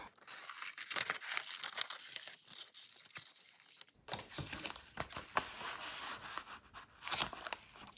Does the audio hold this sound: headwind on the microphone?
no